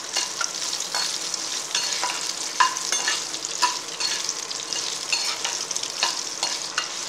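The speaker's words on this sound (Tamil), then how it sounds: "அதையும் போட்டு கொஞ்சம் நேரம் ஃப்ரை பண்ணிவிட்டு" Tamarind and coconut pieces frying in a pan for ginger chutney, a steady close sizzle broken by scraping stirs and a few sharp pops, with no talking.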